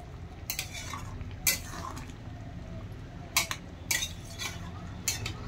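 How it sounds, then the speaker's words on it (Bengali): A spoon stirs garam masala powder into egg curry in a pan, making about five distinct scraping strokes over a steady low simmering sizzle, close up and with no voices. "গরম মশলা গুঁড়ো দিয়ে দেওয়ার পরে আরেকটু নেড়ে দিচ্ছি।"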